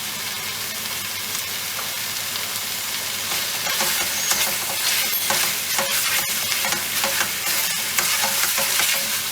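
Rajasthani laal maas lamb curry mixture cooks in a pan, a bright steady sizzle with repeated scraping stirs that grow busier toward the end.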